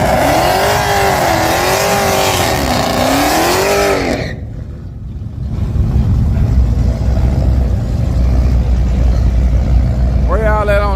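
A car with a 383 engine revs hard, rising and falling in pitch up close, drops off briefly, then rumbles back and begins revving again, with people talking nearby.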